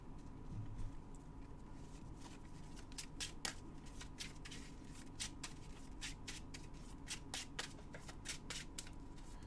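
A deck of trading cards being shuffled during a tournament game, with quick repeated riffles and flicks in close, faint bursts over a low steady background hum.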